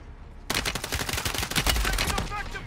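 Automatic gunfire in Call of Duty Warzone, a sudden close burst of rapid, sharp shots rattling continuously for about two seconds, loud and alone.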